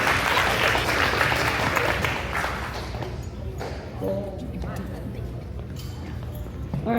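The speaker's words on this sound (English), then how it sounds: "One more round of applause." Audience applause at a St Alphonsus school band event, a dense wash of clapping for about three seconds that thins out, with voices talking over the fading claps.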